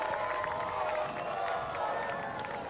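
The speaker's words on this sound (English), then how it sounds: "You can hear them in the stands here below us, booing the official" Soccer fans in the stands at a CIF boys high school match raise a steady, distant crowd roar of booing aimed at the official, sustained and diffuse without pause.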